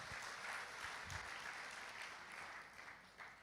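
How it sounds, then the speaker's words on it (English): A room of people applauding the team at a real estate development launch event, a faint steady patter of clapping from a modest crowd, with no speech over it. "Let's give a huge round of applause to the entire team."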